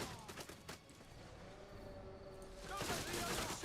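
Focused volley of missiles in Total War: Rome 2 (Norseman mod) loosed at a Legionary cohort: a dense crackle of shots and impacts with broad battle noise, swelling louder near the end over a steady din.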